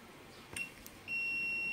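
Hioki IR4056 insulation tester sounding its continuity check on alligator test clips: a faint brief chirp, a couple of clicks, then a steady high electronic beep that starts and holds to the end.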